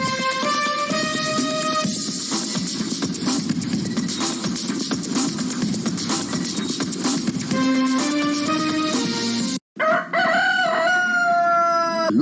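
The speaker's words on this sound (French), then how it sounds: "Le coq chante pour annoncer le lever du jour." A rooster crows at daybreak near a sacred village site, a loud, repeated cock-a-doodle-doo heard over a steady wash of background music, with a brief drop partway through.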